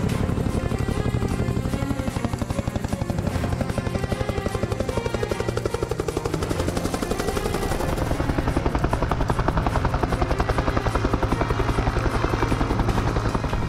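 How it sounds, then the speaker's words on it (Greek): A rescue helicopter circles low over a survivor in the sea during an air force sea survival and rescue exercise, its rotor beating loud and steady with a continuous chopping throb throughout. "Το ελικόπτερο έχει εντοπίσει τον ναυαγό, εκτελεί έναν κύκλο γύρω του για να τοποθετηθεί αυτό σωστά"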